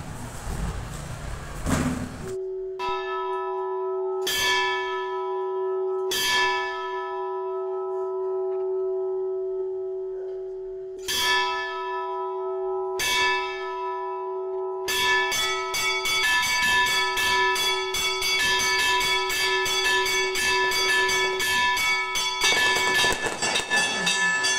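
A church bell rings in loud, spaced single strokes with long resonant hums between, then speeds into a dense, rapid peal of overlapping strikes.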